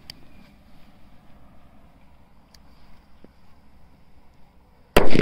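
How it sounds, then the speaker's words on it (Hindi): A mini bullet bomb firecracker, set off during Diwali fireworks testing, bursts in one loud, sharp bang at the very end after several seconds of quiet outdoor background hum. "ये देखा भाई आपने क्या शानदार बजा हमारा जो मिनी बुलट बम था"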